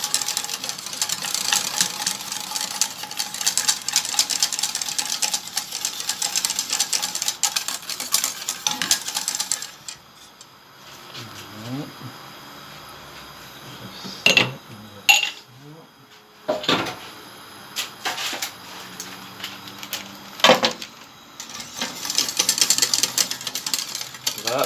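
Pastry cream for a homemade flan is stirred in a pan, with a whisk or spoon clinking and scraping against the metal in busy bursts, broken by quieter stretches and occasional sharper knocks.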